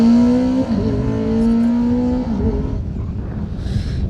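A rally car on a stage drives past with a steady engine note that shifts pitch as it changes gear, then fades away into the distance, loud at first and trailing off.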